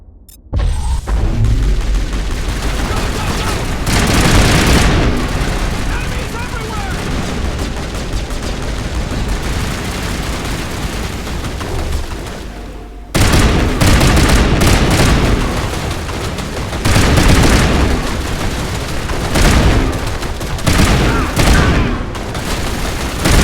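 A dense, sustained firefight in Mass Effect Legendary Edition, with loud continuous rifle fire and booming impacts that break briefly and then resume just as heavily.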